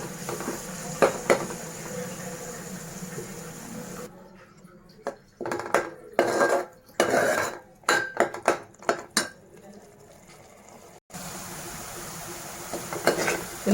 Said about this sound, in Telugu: మొత్తం ఆయిల్ పైకి తేలేంత వరకు కూడా ముద్ద వేపుకుందామండి.